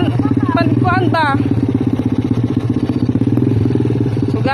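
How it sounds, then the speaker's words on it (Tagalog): A motorcycle carrying a family rider runs steadily with a low, continuous engine drone and rattling, while people talk over it throughout. "sakay na po kami ng motor"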